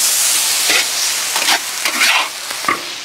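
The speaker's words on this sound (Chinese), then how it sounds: "大葱炒香后下入羊肉，放一点点生抽" Loud sizzling in a hot wok as lamb is stir-fried with scallions, pickled mustard greens and a splash of soy sauce, with a steady frying hiss and several sharp bursts of tossing and stirring.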